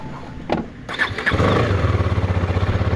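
A Husqvarna Vitpilen 250 motorcycle engine cranks and fires up, a brief starter whir followed by the single-cylinder settling into a loud, steady, throbbing idle close by.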